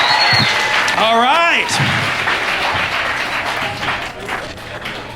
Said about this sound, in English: let me get a nice round of applause